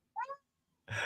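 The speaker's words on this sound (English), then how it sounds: "Oh, it's purring." A cat gives one short, faint meow, followed after a brief pause by a louder, breathy noise up close.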